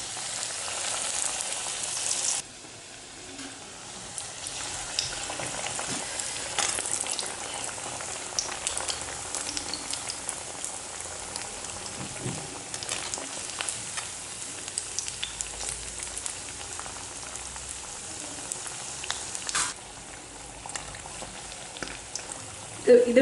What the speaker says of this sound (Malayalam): ആ എണ്ണയിലിട്ട് നമുക്കിത് ഫ്രൈ ചെയ്തെടുക്കാം.